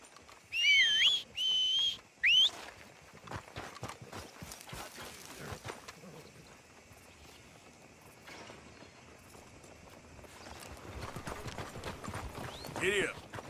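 Horse hooves thud steadily across ground in Red Dead Redemption 2, continuing throughout after a few short, high whistle tones at the start, with a louder burst near the end.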